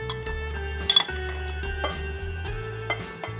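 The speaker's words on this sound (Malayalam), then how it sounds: "മുട്ട എടുത്തൊന്ന് ബീറ്റ് ചെയ്യാം." An egg being beaten in a bowl for crepe batter, a whisk or fork knocking and clinking against the sides in a few light, irregular taps over a steady background hum.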